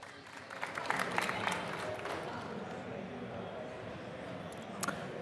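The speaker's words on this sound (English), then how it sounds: "Please give them a round of applause." Audience applause for two game developers from Toxic Games presenting Q.U.B.E. 2 on stage at EGX 2017, a steady wash of clapping from a crowd that swells early and holds through the whole stretch.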